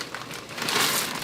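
A 12-ounce plastic bag of lima beans crinkles close by in a short, continuous burst of crisp rustling.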